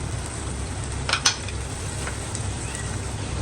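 Chicken frying in a pan, a continuous close sizzle with a couple of brief utensil scrapes near the middle.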